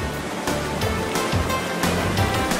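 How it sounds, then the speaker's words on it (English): Kursunlu waterfall near Antalya, Turkey: a steady, loud broadband rush of falling water with surging swells, heard close and alone without speech. "The Kursunlu waterfall is particularly impressive."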